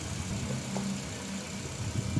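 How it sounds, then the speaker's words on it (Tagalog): A Mitsubishi Xpander engine idles steadily in a workshop during a check for delayed transmission engagement and a sinking brake pedal, giving a low, even hum with faint mechanical ticking throughout and no talk. "Sige, start mo makina."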